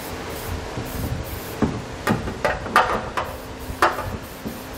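Spray paint from a can hisses onto bare metal on a Curt trailer hitch frame fitted to a 2015 Jeep Renegade, in several short, close bursts with brief pauses and faint rattles between them.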